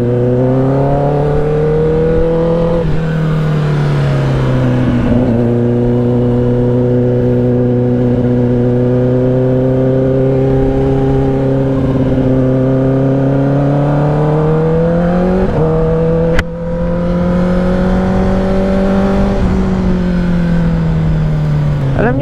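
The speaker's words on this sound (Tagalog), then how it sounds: "Gamit nating motor ay Kawasaki ZX-10R" A Kawasaki ZX-10R sport bike on a ride toward Kaybiang Tunnel, its engine a loud, steady close-up drone that swells and eases as the revs climb and fall, with a brief sharp bump near the end.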